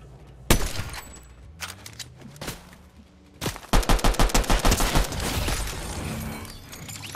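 Gunfire in a Fortnite match: a couple of isolated shots at first, then a rapid burst of closely spaced loud reports, with no talk over it.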